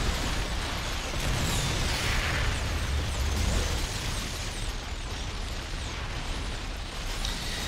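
Tanks in the real-time strategy game StarCraft 2 blast away at batches of units, making a dense, continuous rumble of explosions and bursts that stays steady and fairly loud for the whole stretch.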